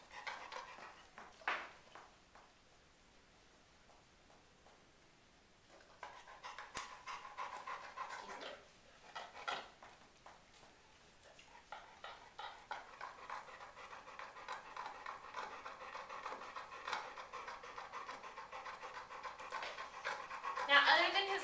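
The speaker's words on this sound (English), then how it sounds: "He's a very spoiled dog, and he's a happy dog." A dog with a bad back right hip, otherwise healthy, pants steadily and close by; the rhythmic breathing grows louder and more continuous in the second half, with a person talking over parts of it.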